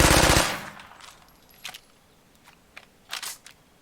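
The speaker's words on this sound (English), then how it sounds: "That was a reload. Like, that's a really fast reload." Gunfire in the State of Decay 2 video game: a loud rapid burst of shots at the start, then quick mechanical clicks and clacks of a fast reload, alone without talk.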